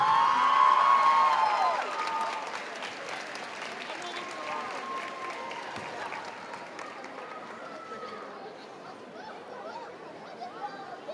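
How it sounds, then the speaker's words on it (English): Applause and cheering from the crowd at a district basketball championship award ceremony in a gym, loud at first and then settling into a softer, sustained clatter of clapping with voices mixed through it. "give all the young ladies that have gotten an award and worked on it tonight a big round of applause"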